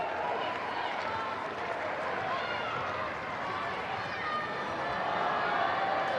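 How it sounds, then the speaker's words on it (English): Scattered ripples of applause spread through the crowd at a women's football cup final between AFC Bournemouth and Plymouth Argyle, a steady, moderately distant clapping under an ambient crowd murmur. "Ripples of applause are because Kenni has made her way round back to the dugout."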